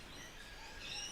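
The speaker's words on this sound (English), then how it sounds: "can you hear the birds?" Birds chirp faintly outdoors, with thin high calls drifting over a steady low background hum and no one speaking.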